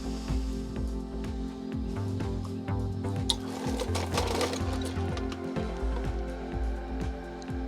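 A salvaged home theater seat's recliner actuator motor runs steadily with a mechanical whir, with small clicks and knocks over the hum, close and moderately quiet.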